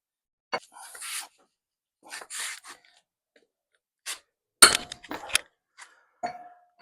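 A small screwdriver works screws loose on a Toyota Camry with 240k miles, making scattered short metallic clicks, scrapes and clinks with quiet gaps between them, close to the microphone.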